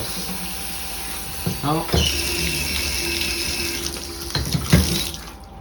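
Tap water runs steadily into a sink while something is washed by hand, a constant close splashing hiss with brief clatters and a short spoken exclamation partway through.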